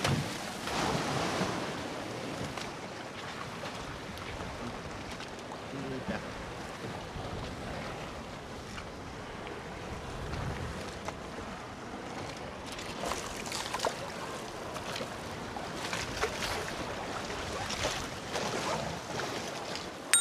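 Steady wash of ocean waves and wind buffeting the microphone, with a boat's hum blending into the continuous surf off Fortune Island, Nasugbu, Batangas.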